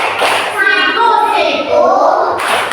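Children chanting together in a classroom clapping game about flat shapes, with rhythmic claps running under the group chant throughout.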